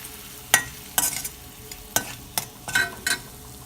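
Garam masala, salt and turmeric stirred in a sizzling pan for egg roast, with a spoon scraping in short irregular strokes over a soft frying hiss, close and fairly faint.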